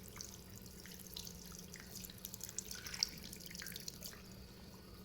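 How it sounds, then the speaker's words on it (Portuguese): Water runs steadily from a tap for rinsing during peritoneal dialysis hand preparation: a soft, constant faint stream with small splashy flickers, heard alone. "agora eu vou enxaguar"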